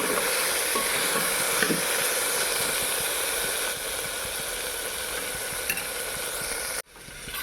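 Goat meat sizzles and hisses steadily in a hot pan while being stirred and fried, a close, continuous crackle with faint scraping, cutting off abruptly near the end.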